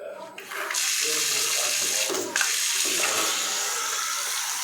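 Water gushes from a Jaquar wall mixer's shower at full pressure in a bathroom. The rush is loud, close and continuous after a brief uneven start, with a short dip near the middle.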